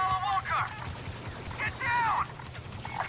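Blaster fire in the video game Star Wars Battlefront 2 during a battle on Endor, rapid bursts of laser shots with whining tones mixed with shouting voices in the game.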